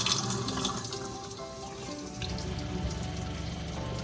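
Hot water runs steadily from an RV faucet into a sink, a continuous broadband splashing rush that holds at a constant level throughout, with no talk.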